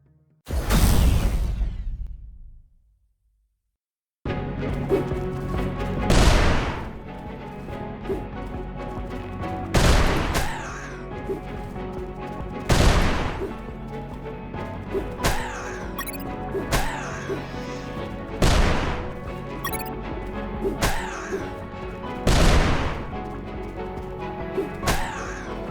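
During a boss fight in the video game UnMetal, grenade blasts and gunfire land as sharp, heavy impacts every few seconds over a steady in-game background, after a short burst and a moment of silence at the start.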